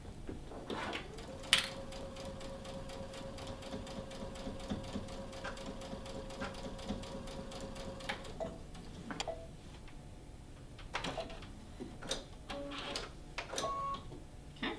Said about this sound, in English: we're just gonna sew right across both of those